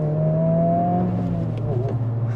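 A 2023 Honda Civic Type R engine revs freely, a steady loud drone with a rising tone across a couple of seconds, heard from inside the car.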